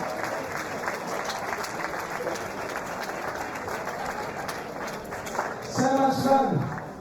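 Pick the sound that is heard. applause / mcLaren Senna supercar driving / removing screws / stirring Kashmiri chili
applause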